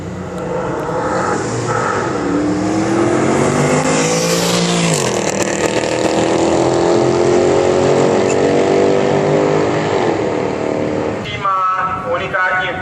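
A rear-wheel-drive car with a naturally aspirated 6.2-litre V8 of 457 horsepower and stock exhaust revs hard, the engine note climbing in a sweeping rise, holding a loud sustained roar, then dropping off with crackling at the end.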